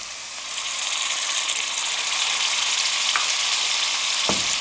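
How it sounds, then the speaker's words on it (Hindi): Ginger garlic paste sizzles steadily in a hot pan after onions, a dense crackling hiss with a couple of faint utensil clicks near the end. "अब इसमें हम अदरक और लहसुन का पेस्ट डाल देंगे।"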